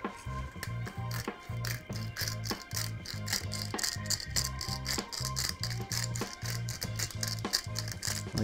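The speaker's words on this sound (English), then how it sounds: "So I'm just gonna hit these beauties with a little bit of black pepper to start." A pepper mill grinds black pepper over raw eelpout fillets, a dense run of quick crackling, ratcheting clicks repeating steadily and close for several seconds with no talking.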